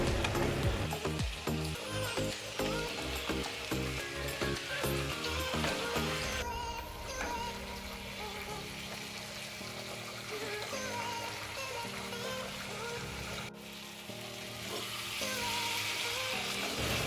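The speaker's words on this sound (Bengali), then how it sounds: "এবারে আমি মাছগুলো দিয়ে খুব ভালো করে মিশিয়ে নেব" Small tengra fish cooked down in a pan as the water dries off, a continuous frying sizzle with irregular stirring and scraping, while a music-like tonal background plays along underneath.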